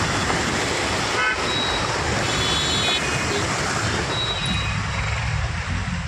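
Dense, continuous traffic noise on a rain-flooded road in Pune, with engines rumbling through water and car horns tooting repeatedly throughout, loud and close.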